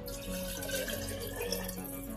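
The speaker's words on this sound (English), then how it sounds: "I'm also going to be adding my water." Water poured from a jar into a crockpot holding pasta sauce for a pasta casserole, a steady close splashing pour lasting the whole moment with no talking.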